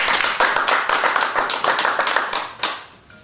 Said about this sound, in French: On a applaudi Hilarion.